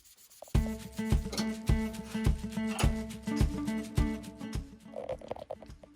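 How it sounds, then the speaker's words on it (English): Wet sandpaper rubbed over Bondo on car paint in a steady run of back-and-forth strokes, close and fairly quiet, about two scrapes per second with no talking. "So I'll keep sanding."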